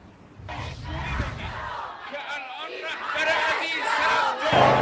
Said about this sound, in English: Massive crowds have turned out here in central Tehran to protest against Israel's strikes against Iran